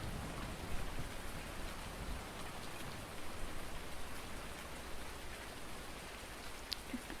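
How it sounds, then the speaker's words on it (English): Steady rain falling around a farm, heard as an even, continuous hiss of drops with a low rumble beneath, moderately quiet and unbroken by talk. "it's a bit quieter without all the noise of the rain in the background"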